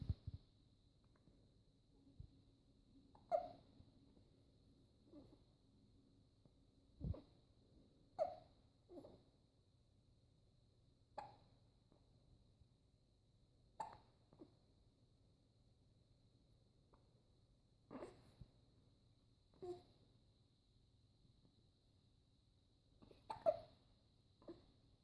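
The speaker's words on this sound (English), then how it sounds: "you got hiccups?" A baby hiccups repeatedly, about a dozen short soft hiccups spaced a couple of seconds apart in a quiet room, close and faint, with occasional light breathing between them.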